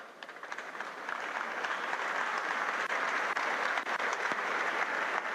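Steady audience clapping at a university convocation ceremony, fairly distant and moderately quiet, building slightly then holding even, with a few sharper claps standing out.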